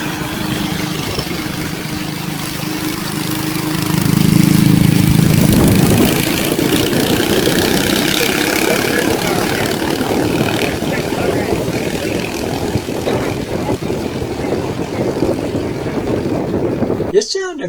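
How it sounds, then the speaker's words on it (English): A lawnmower engine races at wide-open throttle down a drag track, a loud, rough, crackling drone that swells early and then holds steady, with talking over it. "it was only a lawnmower engine, but you could hear that thing crackle"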